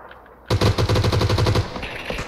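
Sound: gunfire in a battle royale video game

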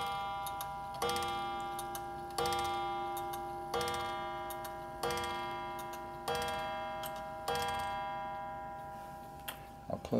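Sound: antique Winstanley of Wigan clock ticking and chiming

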